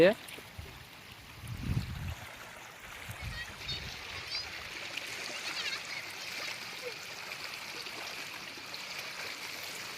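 River water flows steadily at a moderate distance while a child lies in the shallows, with a couple of low splashes early on and then a continuous soft rushing and trickling; faint voices are present in the background.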